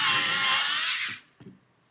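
A pencil sharpened for an anime drawing gives a loud, steady whirring grind for just over a second, cuts off sharply, then a couple of soft clicks follow in quiet.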